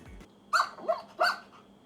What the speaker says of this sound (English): cool audio on my computer of a cute dog barking